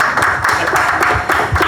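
Clapping from the audience at a panel discussion at a growth summit, a short and fairly loud burst of applause that holds steady, with no talk over it.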